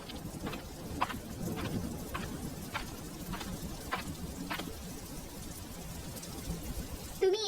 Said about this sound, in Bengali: বললাম না বৃষ্টি নামবে, নেমে গেছে দেখ।